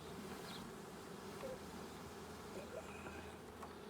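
Honeybees from a package hive swarm in a steady, dense buzz close by, the drone holding evenly throughout with no voices over it.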